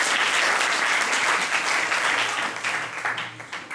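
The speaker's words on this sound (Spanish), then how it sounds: "aplausos por favor." An audience at a talk on the slavery legacy in the Basque Country breaks into loud, sustained applause, a dense wash of clapping that gradually thins toward the end.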